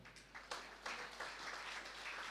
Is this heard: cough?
no